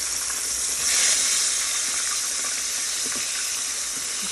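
Pork chops frying in a hot pan, a steady bright sizzle and hiss running unbroken throughout, close and fairly loud with no talking.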